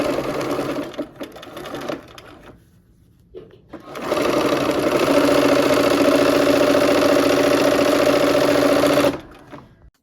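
A sewing machine stitches quilt rows together in a few short bursts, then settles into a long, steady, loud run of whirring motor before stopping abruptly.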